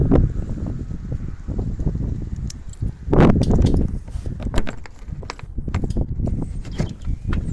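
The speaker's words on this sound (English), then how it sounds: "keys somewhere." Keys jangling and rattling near a locked heating oil tank, loud close metallic clinks and shakes that keep going, with brief handling noises and no talk.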